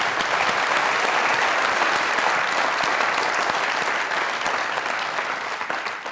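Studio audience applauding at a comedy talk show taping, a thick continuous roar of clapping that stays loud and even before gradually thinning at the end.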